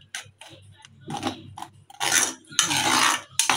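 A spoon scrapes and clinks against a cooking pan while pav bhaji is stirred, giving irregular, close metallic scraping strokes and taps that grow busier and louder toward the end.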